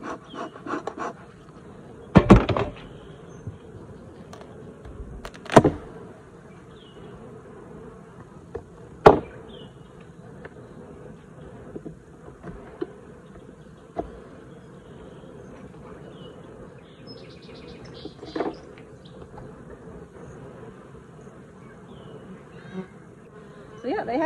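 Honey bees buzz steadily around an overwintered hive that has been weak all season, a dense close drone that continues throughout, broken by a few sharp knocks and scrapes from handling the hive.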